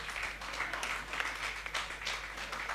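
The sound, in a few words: audience applause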